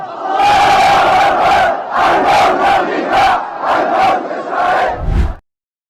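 A huge crowd of well over a million people at a rally in Yemen chants loudly in rhythmic bursts, dense massed voices rising and falling together, close and continuous until an abrupt stop.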